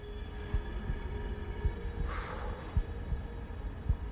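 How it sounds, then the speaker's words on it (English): A heartbeat sound effect in the Subnautica: Below Zero video game, a faint, slow, regular low thump repeating about once a second over a soft ambient hum, with no talk. "Oh, we've got a heartbeat sound."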